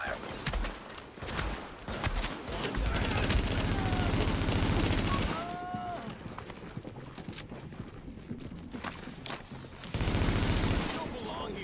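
Gunfire in Tom Clancy's The Division video game: rapid bursts of automatic shots rattling in clusters, loud at times and thinner in between, with voices talking over parts of the fighting.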